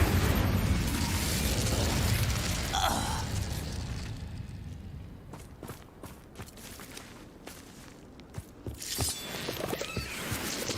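Casting the Incendio fire spell in Hogwarts Legacy on PC brings a loud roaring burst of flame that fades into scattered pops, clicks and footsteps, then another bright burst near the end.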